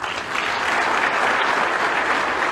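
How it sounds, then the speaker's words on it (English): A speech audience breaks into dense, sustained applause, a close, even wash of many hands clapping with no break for the whole stretch. "So let's give a round of applause to ourselves"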